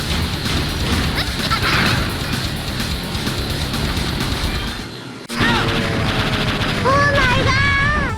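Shots fired at metal boxes during a Mega Man ZX boss fight: rapid, sharp game blasts and impacts over busy background music, with a brief drop partway through, then chirpy rising electronic effects.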